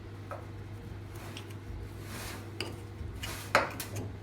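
A chrome lower denture being carefully prised up from a dental flask after boiling water softened the wax inside; a quiet mechanical hum runs throughout, with faint scraping and a sharp metallic click near the end.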